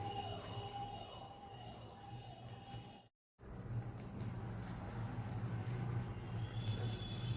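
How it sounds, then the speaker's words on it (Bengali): Water is poured into a pot of cauliflower curry once the cauliflower is boiled, a soft, steady splashing and trickling that runs throughout with one brief dropout, with no talking. "ওই জন্য একটুখানি এরকমই জল দেবো।"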